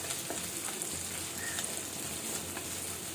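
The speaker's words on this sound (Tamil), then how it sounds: "நல்லா அதை ஃப்ரை பண்ணி இந்த பச்சை வாசம் போகிறது வரைக்கும் நம்ம அதை வதக்கணும்" Crushed spices frying in hot oil for a Kerala-style sardine curry, a continuous dense sizzle with faint scattered crackles, close and fairly quiet.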